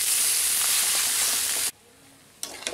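Potato masala stuffing for dosa cooking in a pan, a loud, steady, close hiss of frying that cuts off suddenly, followed by quiet and a few brief clinks.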